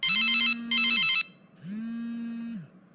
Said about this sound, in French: Il me faut laisser le téléphone sonner un peu longtemps pour jouer à l'importante.